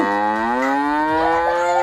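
A cow moos in one long, loud, close bellow that holds steady throughout, with no voices over it.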